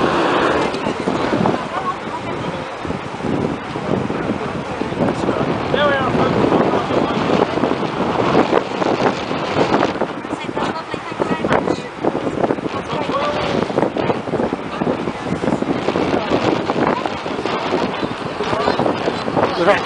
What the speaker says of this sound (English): About 20 mile an hour wind blowing in the moment.